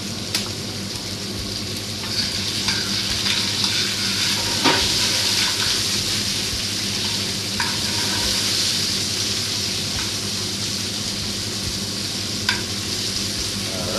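Shark pieces sizzle steadily in a pan with carrots and cabbage, a continuous close frying hiss broken by occasional scrapes and clinks of stirring.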